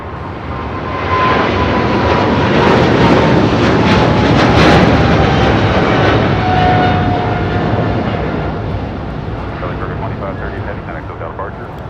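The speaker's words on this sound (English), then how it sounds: "This is China Southern Cargo 2538 taking off to Guangzhou on a 777 freighter." A China Southern Cargo Boeing 777 freighter takes off from LAX, its jet roar swelling to a loud peak midway and then easing off, with a faint whining tone sliding downward through the noise.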